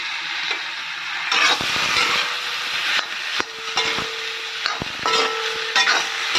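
Ingredients for a jackfruit curry fry in a pan, a constant hiss broken by a series of sharp utensil knocks and scrapes as the mixture is stirred.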